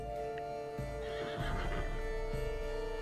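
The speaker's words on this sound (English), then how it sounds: "Just a horse with a horn on it" A horned horse neighing in the Witcher 3 video game, a short whinny rising over a steady tonal game-music hum, with a few hoof thuds nearby.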